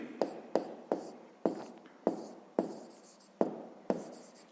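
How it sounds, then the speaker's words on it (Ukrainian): Numbers handwritten during a fifth-grade maths exercise: a close, quiet run of about nine short scratchy strokes at a fairly even pace, each fading quickly before the next. "Ну, пишемо тоді."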